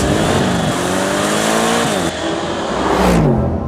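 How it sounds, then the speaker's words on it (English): A 2025 Aston Martin Vantage engine revs hard and climbs through the gears of its ZF 8-speed transmission, loud and close, with a brief dip at a shift before pulling again. "they've still made this an exciting car to accelerate"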